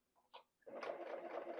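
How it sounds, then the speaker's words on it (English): Serger sewing machine running fast through recycled batting, a short whir after a few small clicks, then a steady close motor buzz with rapid stitching rhythm. "The nice thing about sergers is they sew really fast."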